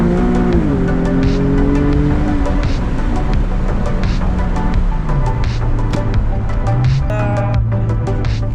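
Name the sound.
loud car exhaust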